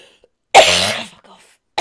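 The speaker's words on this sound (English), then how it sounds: "I am really badly coughing today." A single harsh, loud cough bursts out and trails off, with the start of another cough cut short right at the end.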